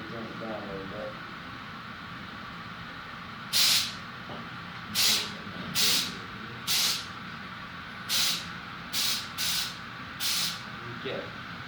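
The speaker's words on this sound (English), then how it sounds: "what works even better is compressed air. I got this air compressor here" Eight short, sharp bursts of hissing compressed air from an air compressor at irregular intervals over steady background noise and faint talk.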